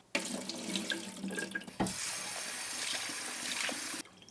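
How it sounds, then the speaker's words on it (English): Rice rinsed by hand in a bowl of water during a second wash, a continuous close splashing and swishing of water and grains, steady and fairly loud with a brief break midway. "Now this is the second rinse. Do the same, just gently move your fingers around the bowl."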